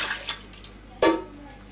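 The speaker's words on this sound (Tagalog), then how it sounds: "ang ilalagay ay ang ating warm water, lahat ng liquid ingredients, yung ating milk" Warm water and other liquid ingredients such as milk pour into a bread machine pan in short splashes and trickles, with one brief fuller gush midway; faint and close.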